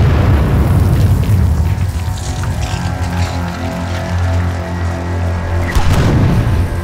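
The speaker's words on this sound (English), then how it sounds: "on the receiving end of one of these projectiles from the rifled ordnance would be completely devastating" A rifled cannon's artillery shell exploding: a loud, deep, rumbling boom that rolls on for several seconds, with another heavy low thud near the end.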